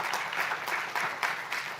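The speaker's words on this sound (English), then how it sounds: "A round of applause." A seminar audience gives a short burst of applause, dense, even clapping from many hands heard at moderate distance with no speech over it.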